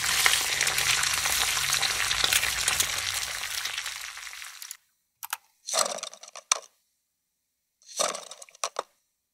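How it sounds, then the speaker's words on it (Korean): Egg frying in a pan as a sound effect, a dense steady sizzle for several seconds that cuts off abruptly, followed by a few short scraping bursts, close and alone. "계란 프라이 굽는 소리입니다."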